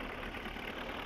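Tractor engine in the video game Farming Simulator, a steady low idling rumble with slight knocking texture, quiet and continuous for about a second.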